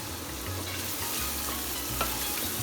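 Vegetables for a butternut squash soup cooking in a hot pan, giving a continuous close sizzle and crackle with a faint scrape near the end, no voices.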